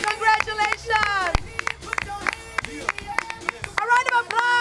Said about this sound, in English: A round of applause for BC Tacos, Cuban Cube, Miss Cheesiest.